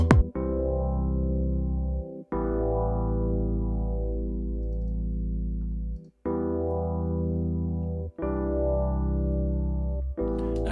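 Bright Suitcase electric piano with tremolo, chorus and reverb, holding four long sustained chords with a slow wavering shimmer, each struck cleanly and fading before the next, close and alone.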